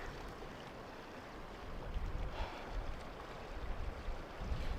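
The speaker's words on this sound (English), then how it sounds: "Down by the river." Steady, quiet rushing of a river heard from the bank in frigid winter cold, with a soft continuous wash and no voices.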